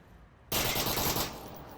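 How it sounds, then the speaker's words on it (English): Sudden burst of rapid automatic gunfire in the VR shooter Onward, erupting after a quiet moment and hammering loudly and densely for under a second before tailing off into echoing reverberation. "You're going to have to speak up over that gunfire."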